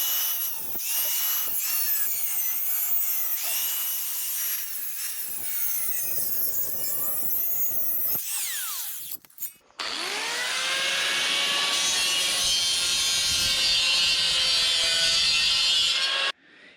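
Loud, close power-tool cutting through a stainless steel mower discharge cover, a shrill screeching whine with shifting pitch, a brief stop near the middle, then a long sustained grinding cut.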